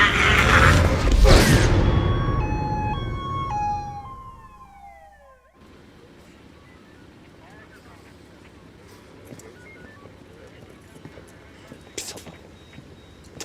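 A police car siren wails with rising and falling tones, loud and near at first, then cuts off abruptly, leaving a quieter scene with scattered background noise.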